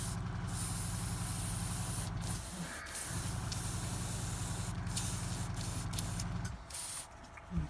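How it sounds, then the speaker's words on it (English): Airbrush spraying varnish to seal a painted Ogryn bust, heard as a steady, close, breathy hiss of air that pauses briefly twice and then tails off, with no talking. "Turn the pressure back up in the airbrush, it's not high enough."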